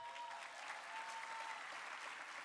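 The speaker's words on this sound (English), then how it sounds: "Can we give a round of applause to Elon Dancy as well?" An audience at a conference keynote applauds a scholar, a sustained wash of many hands clapping at a fairly soft, even level.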